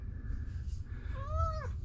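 A pet cat gives a single rising-and-falling meow near the end, close and fairly clear over a low steady room hum in a studio being rearranged.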